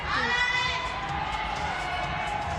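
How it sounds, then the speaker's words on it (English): Crowd at a men's lead climbing final in Wujiang cheering a climber on, a steady broad roar of voices and shouts filling the space, loud and continuous with no single clear call standing out. "The crowd sense it and cheer him on."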